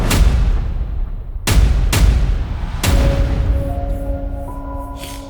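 Gunfire in recorded footage of the Pulse nightclub shooting: four loud, sharp shots at uneven intervals, each ringing out over a steady background rumble, with a faint high tone appearing after the last one.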